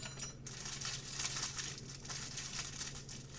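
A small plastic bag holding a packaged food item is handled close up, giving soft, continuous crinkling and rustling at a low level without any talking.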